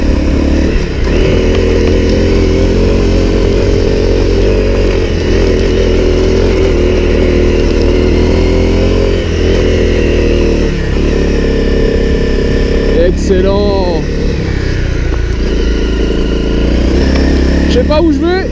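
A Honda CRF 250 L motorcycle engine runs loud and close on an off-road trail, its steady mid-pitched drone shifting with throttle and a couple of revving surges late on, while a voice talks over it.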